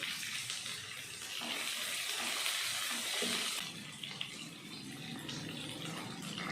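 Chopped onions with curry leaves and dried red chillies sizzle steadily in a pan while sautéing for podi idli upma, a constant soft crackling hiss at low volume.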